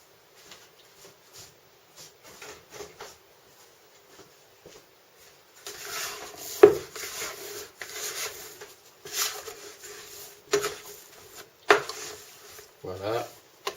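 Bread dough being kneaded by hand, giving soft intermittent rubbing, slapping and scraping sounds at close range that are faint at first and then more active, with no talk.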